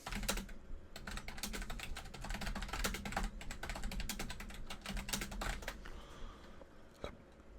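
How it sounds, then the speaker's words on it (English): Fast, steady typing on a computer keyboard, a dense run of close key clicks that slows and thins out near the end. "Type that in."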